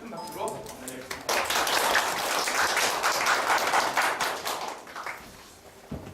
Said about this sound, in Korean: 오늘 연사분이신 박준호 연구원님을 큰 박수로 맞이하겠습니다.